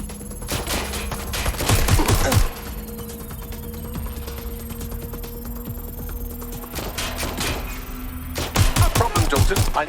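Gunfire in Watch Dogs Legion comes in loud, rapid bursts at the start and again near the end, with a steady tonal hum and quieter clatter in between.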